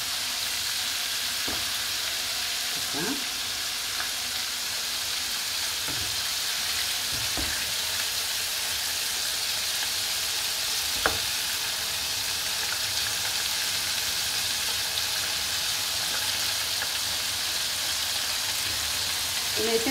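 Calamari tufts frying in hot oil give a steady, close sizzle and crackle that lasts throughout, with a few sharper pops rising above it and one brief word spoken.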